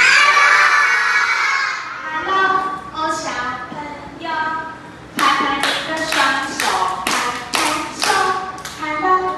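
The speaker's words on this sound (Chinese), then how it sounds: "拍拍你的双手，拍拍手" Kindergarten children clap along in a music class while singing a hello song. Scattered taps give way to a run of sharp, rhythmic, fairly close claps mixed with the children's voices.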